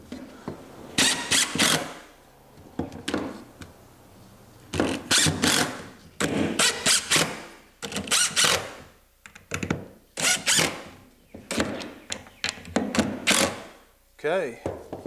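Screws being driven into a miter saw station fence track with a power drill, several short whirring bursts separated by pauses, close and fairly loud, with brief talking between runs.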